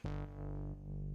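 A deep, distorted synth bass note run through an 1176 compressor holds steady, swelling twice with a squeezed, compressed punch and gritty harmonics.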